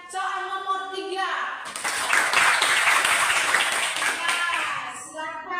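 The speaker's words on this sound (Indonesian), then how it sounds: "Tepuk tangan dulu untuk kelompok yang mempresentasikan soal nomor 3." Classroom of children applauding a student group after their presentation, a burst of clapping lasting several seconds with a teacher's speech before and after it.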